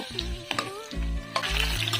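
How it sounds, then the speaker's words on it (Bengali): Slices of elephant apple (chalta) fry in a pan with a steady sizzle and occasional stirring knocks, close and fairly loud, with no talking. "চালতার ফালিগুলোকে কিছুটা ভেজে নেব"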